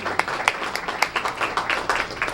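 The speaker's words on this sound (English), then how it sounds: "So yes, we'll give her a round of applause." Audience applause for a student of the month, a dense burst of steady clapping from a room full of people, loud and continuous throughout.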